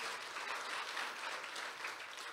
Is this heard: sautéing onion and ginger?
no